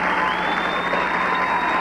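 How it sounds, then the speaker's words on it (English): A standing ovation after a live performance: dense, steady crowd clapping and cheering that fills the whole moment. "Standing ovation."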